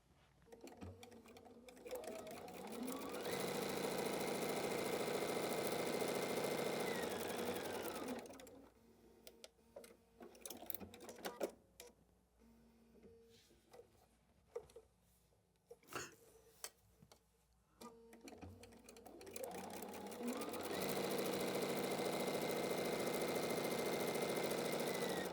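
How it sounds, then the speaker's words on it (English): A sewing machine stitches a quilt block along a drawn line, a fast steady whir in two long runs separated by a stretch of quieter handling noises and clicks. "now I'm just going to sew directly on the line"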